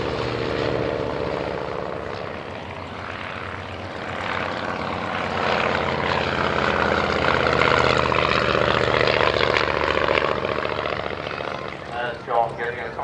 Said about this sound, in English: And John getting a quite nice little aerobatic display in the B2.